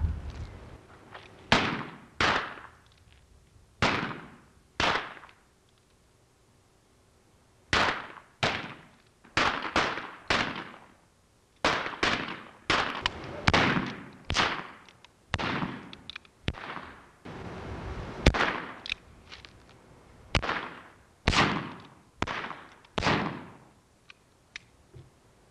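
Gunshots in a gunfight, about two dozen sharp, loud cracks fired singly and in quick pairs and bursts, each decaying fast into short silent gaps, with no talking.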